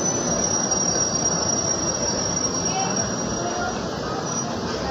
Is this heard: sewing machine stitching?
no